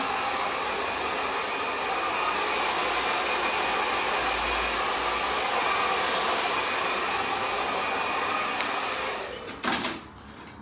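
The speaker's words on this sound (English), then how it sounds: "I'm gonna give it a little blast with my dryer to make sure that's all dried in" A hair dryer blows in a continuous loud, close rushing whoosh, then cuts off near the end with a brief clunk.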